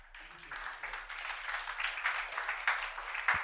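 Audience applause at a mentorship, entrepreneurship and networking conference, a crowd clapping steadily at moderate distance, swelling gradually louder over a few seconds.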